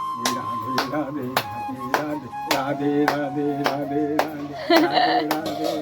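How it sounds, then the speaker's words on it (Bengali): Hands clapping in a lively home setting, a series of sharp, irregular claps close by, mixed with voices talking and light laughter. "হাততালি দাও।"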